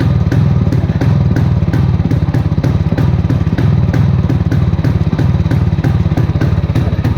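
An electric-start motorcycle engine idles loud and close, its rapid, regular firing pulses steady for the whole stretch with no talk over it.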